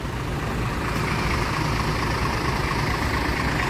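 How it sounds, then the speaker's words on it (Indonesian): A bus with a Hino AK8 215 engine idles at a shelter, producing a steady, close, low rumble that stays even the whole time. "ini dengan mesin Hino AK8 215"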